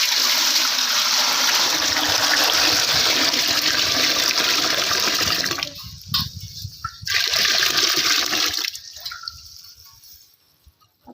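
Water poured into a cooking pot for mutton, a loud continuous gushing splash that breaks off, returns briefly, then tapers to quiet.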